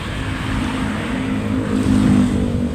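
Road traffic near Robinson Pala-Pala in Dasmariñas, Cavite, where cars are backed up after a collision: a loud, close, steady engine rumble that swells slightly near the end, with no talking.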